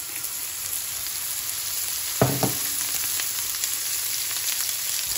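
Oil crackles and sizzles steadily in a pan readied for an omelette, a close continuous hiss with a brief clatter of utensil contact midway and no voices.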